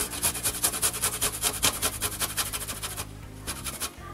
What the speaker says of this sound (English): take your garlic clove and grate it on there